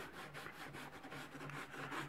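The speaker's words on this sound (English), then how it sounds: "I'm going to use the sanding sponge." A whitetail deer antler being rubbed with a fine sanding sponge, a steady close scratchy rasp in quick back-and-forth strokes with no talking.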